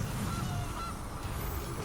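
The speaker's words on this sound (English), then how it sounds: "We're gonna get our goose out." A goose card in the digital card game Magic: The Gathering Arena honks briefly, a quiet nasal call over faint background noise.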